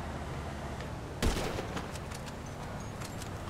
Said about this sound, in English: Yeah, but I'm still shooting his tires out.